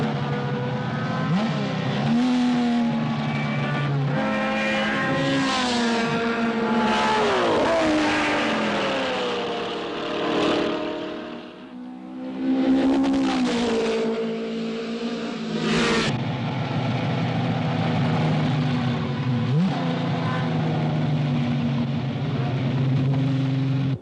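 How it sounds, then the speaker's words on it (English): Racing cars speed around a circuit with loud, sustained engine roars that rise and fall in pitch as they accelerate and pass, with a brief dip before the noise surges back. "The remainder of the cars race on"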